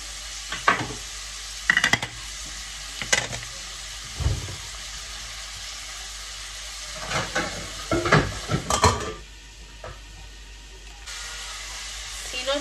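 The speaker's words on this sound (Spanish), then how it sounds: "Si no tenéis prisa, dejad que se sofría lentamente." Liver with a pinch of salt slowly frying under a lid in a pan, a soft steady sizzle broken by occasional stirring scrapes and clinks, close and fairly quiet.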